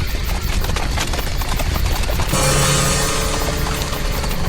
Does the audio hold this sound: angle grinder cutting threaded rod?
no